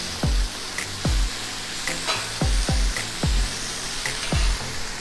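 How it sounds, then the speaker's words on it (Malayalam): Masala and onions sautéing in a pan for karimeen pollichathu, a constant close sizzle broken by regular spoon knocks and scrapes roughly every second. "മസാലയും ഇട്ട് നന്നായിട്ട് വഴറ്റിയെടുക്കാം."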